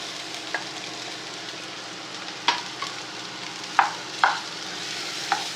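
Potatoes frying in oil with masala for aloo paratha filling sizzle steadily while a spoon stirs and mashes them, sharp scrapes breaking through the hiss.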